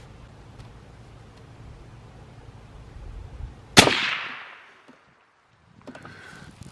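A single sharp, loud shot from a Sako 90 Quest rifle cracks out over a quiet outdoor background and rings off in a fading tail before near silence.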